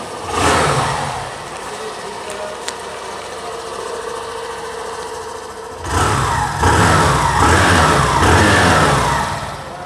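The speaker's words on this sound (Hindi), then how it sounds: "चलिए अब मैं आप लोगों को इसका जो एग्जॉस्ट नोट है वो भी सुना।" A Hero Glamour Xtech 125cc motorcycle runs close by, its exhaust settling to a steady idle before revving up into a louder, rougher, sustained note in the second half.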